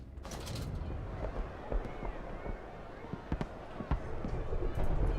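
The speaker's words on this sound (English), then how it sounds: "I swear I hear gunshots." Sharp cracking pops of distant gunfire scattered through a noisy scene in the video game Amnesia: A Machine for Pigs, irregular and fairly faint, with talking over the top.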